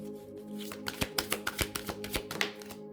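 Tarot cards are shuffled close by in a quick run of crisp riffling snaps and flicks, about a dozen sharp taps in a loose rhythm.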